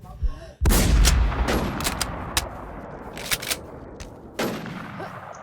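Gunfire in a first-person shooter game, with a loud sustained burst of rapid shots followed by scattered single cracks and a second burst near the end, all close and sharp with no talk.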